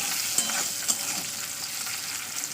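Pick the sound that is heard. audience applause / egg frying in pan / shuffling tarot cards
egg frying in pan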